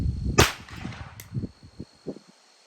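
A single sharp gunshot from a Ruger 10/22 rifle firing subsonic CCI Quiet ammunition over a chronograph, a brief crack early on followed by a faint second click and low rustling handling noise.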